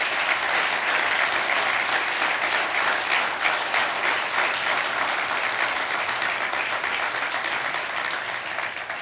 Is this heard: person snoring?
no